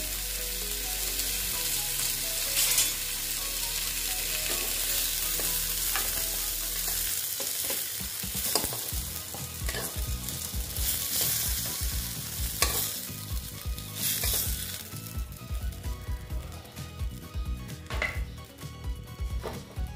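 Pointed gourd pieces fry in hot oil with a steady sizzle while a spatula scrapes and stirs the pan, with repeated metallic clatter growing busier in the second half.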